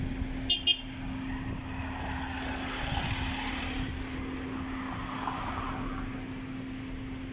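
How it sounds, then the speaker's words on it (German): Street traffic at Pattaya Beach, a continuous rumble of passing engines and road noise with a steady hum and a couple of brief sharp clicks near the start. "Ja, ein bisschen Verkehr ist hier auch."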